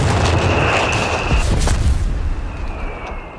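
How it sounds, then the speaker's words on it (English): Artillery fire in the wartime video game Company of Heroes 3: a continuous loud rumbling barrage with dull booms and a sharp crack, while a thin whistling tone rises and fades above the din. "Artillery."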